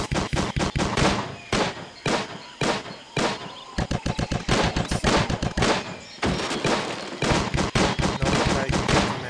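Rapid gunfire from the Tiny Troopers 2 video game, repeated sharp bursts of shots in quick rhythmic volleys with brief pauses, loud and continuous with no talking.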